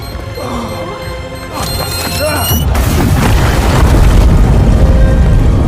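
A time bomb goes off in a film scene: after a short high tone, a loud, deep rumbling explosion swells up and keeps roaring to the end.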